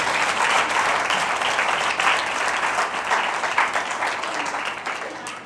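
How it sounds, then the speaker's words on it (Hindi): A church congregation applauds in a steady, full burst of clapping that fills the space for several seconds, loud and continuous without a break. "आए जोरदार तालियां यीशु मसीह के लिए।"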